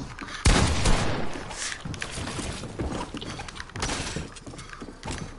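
Fortnite gunfire rattles in quick bursts with sharp cracks and impacts, a loud blast early and then clustered shots and clatter that keep the mix busy throughout.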